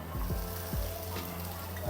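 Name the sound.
peas added to garlic frying in pan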